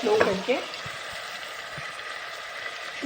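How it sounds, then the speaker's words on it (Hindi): Ginger garlic paste fries in a pot while chicken nihari is cooked, a soft steady sizzle with a few faint clinks and stirring scrapes near the start. "जिंजर गार्लिक पेस्ट ऐड करने के बाद हम इसको करेंगे अच्छे से फ्राई"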